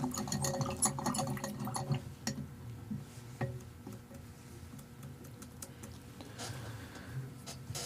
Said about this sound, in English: let's rinse off the brush for a second here